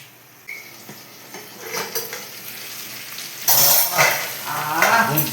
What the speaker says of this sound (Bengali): আলু দিলাম একবার একটু কষিয়ে নিই যত কষবো তত ভালো হবে